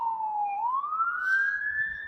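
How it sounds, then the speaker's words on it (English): An ambulance siren wails on a street in Regina, one steady rising and falling tone, fairly near and clear over quiet traffic noise. "Ambulance or fire truck? I think it's an ambulance."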